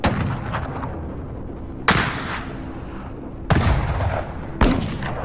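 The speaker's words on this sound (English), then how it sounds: "They took distant pot shots whilst hiding in the tall grass." Distant rifle shots as a gunfire sound effect for an 1876 battle at Little Bighorn, four loud sharp cracks spaced a second or two apart, each trailing off into a rumbling echo over a steady low background.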